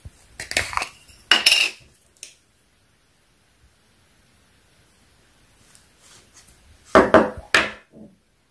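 Lip balm base scooped into a small container, heard as bursts of scraping, clicking utensil contact near the start and again near the end, with a long quiet stretch between.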